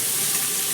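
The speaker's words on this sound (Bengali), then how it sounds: "পেঁয়াজ আর আদাটাকে হালকা একটু নাড়াচাড়া করে ভেজে নেব" Onion and grated ginger fry in a pan, a brief, steady, close hiss of sizzling oil with no voices.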